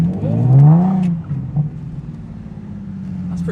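A Nissan 370Z Nismo engine hums and rumbles while driving, a loud, steady low drone with a brief rising note early on and no talk over it.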